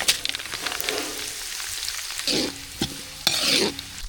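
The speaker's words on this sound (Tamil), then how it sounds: "கடுகு நல்லா பொரிச்சிட்டு ஜீரகம் சேர்த்துக்கலாம் நல்லா பொரிஞ்சிச்சு வரமிளகாய் சேர்த்துக்கலாம்" Mustard seeds, cumin and dried red chillies crackle and spit in hot oil for a tempering, a dense sizzle with sharp bursts of popping close by, no talk.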